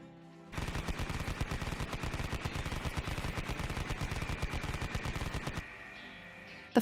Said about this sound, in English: The final confrontation is intense, with guns blazing and bullets flying